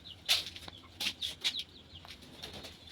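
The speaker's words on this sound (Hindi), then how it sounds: "और देखिए हमारी मुर्गी" A hen clucks at home in a village yard, with a few short, fairly near clucks and calls in a loose rhythm and faint background noise, no talk.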